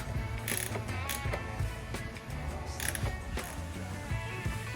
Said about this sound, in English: But use a wrench and have a little bit of patience, and you'll make it happen.